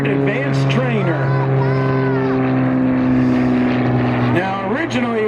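A vintage German trainer airplane, a 1938 Luftwaffe standard advanced trainer, performing aerobatic point rolls. Its engine makes a steady droning hum whose pitch rises and falls as it maneuvers, heard under continuous talking.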